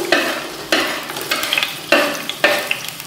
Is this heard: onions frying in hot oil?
yes